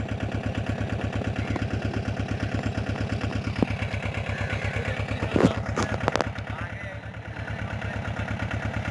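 A tractor stuck in mud keeps its engine running with a loud, steady low throb, close by and continuous, with a few clanks partway through and talk over it.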